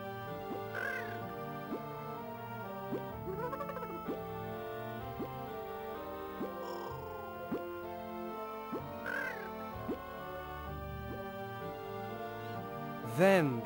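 Crows cawing in a forest in the Hansel & Gretel PS2 video game, several harsh calls scattered over steady game music, with a louder call near the end.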